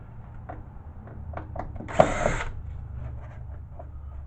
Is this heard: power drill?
yes